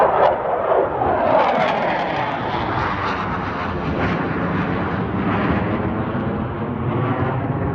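A propeller aerobatic airplane roars overhead at the Reno Air Races, its engine droning loudly and shifting in pitch as it passes, with no voices.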